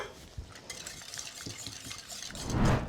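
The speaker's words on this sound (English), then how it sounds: "let's just give this a little whisk" Eggs being whisked in a bowl, heard as quick soft tapping and scraping strokes in a loose rhythm, close and fairly quiet, swelling into a louder brushing swirl near the end, with no voices.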